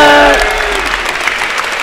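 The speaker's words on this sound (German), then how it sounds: "So, da stehen wir auch nochmal auf und klatschen." A stadium crowd at a Preußen Münster versus Unterhaching football match applauds a substituted player leaving the pitch. The clapping is loud, dense and steady throughout, with a brief whistle-like tone at the start.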